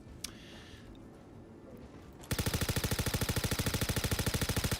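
Rapid automatic gunfire in the space game Star Citizen starts abruptly after a quiet hum and hammers on in a loud, steady stream of evenly spaced shots.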